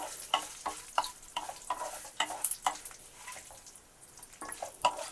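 Curry leaves and tempering spices fry in oil over a low flame for a raw banana dish, giving repeated sharp crackles and pops over a steady background sizzle, close by and without any talk.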